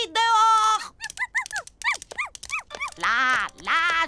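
Cartoon dogs bark, yip and whimper in a rapid series of short, high-pitched, bouncy calls, with longer whining tones at the start and end, loud and close in an animated show.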